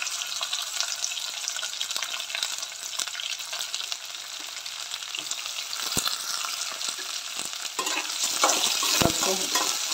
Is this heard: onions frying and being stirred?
yes